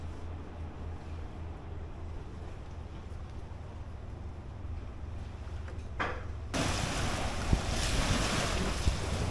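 Steady wash of sea surf in front of a garden on the Vietnamese coast with wind buffeting the microphone, growing louder and rougher partway through; no voices.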